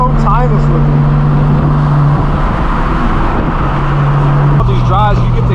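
Loud exhaust of a straight-piped BMW M4 F82 on the road, a close, heavy roar with steady engine tones shifting pitch as revs change, surrounded by traffic noise.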